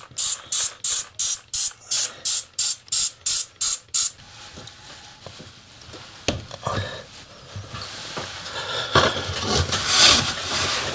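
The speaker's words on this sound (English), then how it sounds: "Give that a spray with the wet water." A spray bottle of wet water mists model railway scenery in about ten quick, loud hissing bursts, followed by quieter handling and rustling noises.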